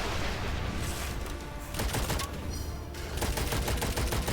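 Weapon fire in the dark fantasy shooter Witchfire, loud dense bursts of gunshots and booms packed together across the whole stretch, with no voices.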